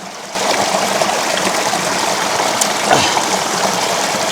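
A clean forest stream in the Western Ghats runs steadily after a short quiet start, a close, continuous babbling rush of water with no voices over it.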